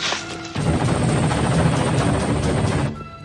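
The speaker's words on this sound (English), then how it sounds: "These helicopters are having a hell of a time trying to find them on foot." Helicopters roar in the Rambo III video game, a loud, dense rotor and engine rumble that surges in suddenly, holds for a few seconds, then cuts off.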